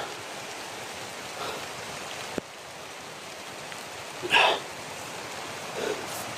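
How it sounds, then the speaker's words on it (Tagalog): Steady rain hisses heavily and continuously, with a few brief louder splashes and bumps standing out nearby. "lakas ng ulan"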